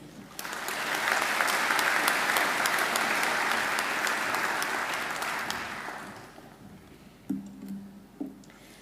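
Audience applause at a Macquarie University graduation ceremony welcoming the occasional address speaker, a broad sustained clapping from a large crowd that swells, holds for several seconds, then fades out, followed by faint sounds of someone stepping up.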